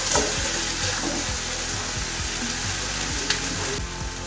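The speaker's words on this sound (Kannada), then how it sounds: "ಎಷ್ಟು ನೀಟಾಗಿ ಫ್ರೈ ಮಾಡ್ತೀವಿ ಅಷ್ಟು ನೀಟಾಗಿ ಬಂದು ಪನ್ನೀರ್ ಬುರ್ಜಿ ಅನ್ನೋದು ಬರುತ್ತೆ" Paneer bhurji fries in a pan with a loud, continuous, close-up sizzle, broken up by repeated scraping and stirring strokes from a spatula.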